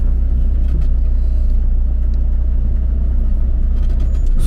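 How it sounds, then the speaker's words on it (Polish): A brand-new camper van with an automatic transmission drives along, its engine and road noise forming a loud, steady low rumble heard from inside the cabin with faint rattles. "Jeszcze w życiu nie prowadziłem kampera z automatyczną skrzynią biegu."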